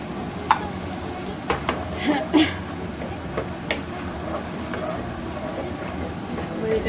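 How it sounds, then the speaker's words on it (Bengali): Pangas fish masala with salt, chopped tomato and coriander being sautéed in a pan, a low sizzle under repeated spatula scrapes and knocks, with faint background voice. "এটাকে আমি খুব ভালো করে কষিয়ে নিই"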